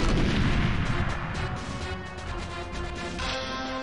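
A loud explosion in GoldenEye 007 opens with a heavy blast, then a dense rumbling roar of debris that fades slowly over a few seconds.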